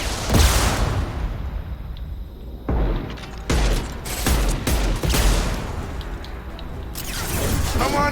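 Rocket launcher fire in Mass Effect 2 erupts as several loud, heavy blasts with booming tails and mechanical clatter, separated by brief lulls.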